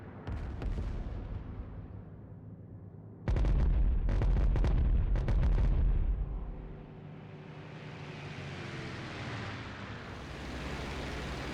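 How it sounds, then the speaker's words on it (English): Heavy explosive booms and rapid bursts of gunfire from aircraft bombs, rockets and cannons in a flight combat video game over hilly terrain, loud and dense, with a brief lull before a sustained rumbling roar of battle noise. "attacked the concentration of enemy forces with their bombs, rockets and cannons"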